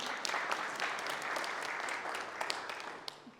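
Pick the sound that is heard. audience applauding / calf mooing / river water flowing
audience applauding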